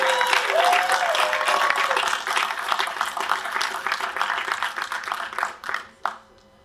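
A crowd at a demoscene screening event gives sustained applause, loud and dense at first, then tapering off to a few final claps.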